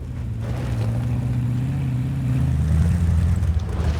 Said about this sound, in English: the BRDM, which at idle has quite a distinctive like rev up sound for some reason.